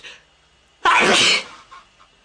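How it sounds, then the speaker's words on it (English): A single loud, sharp sneeze bursts out in a quiet room, followed by a brief faint breathy trailing sound. "I'm gonna sneeze."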